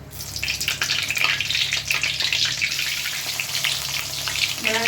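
Green chillies crackle and spit as they drop into hot oil, a dense, steady sizzle with sharp pops throughout, loud and close with no talking.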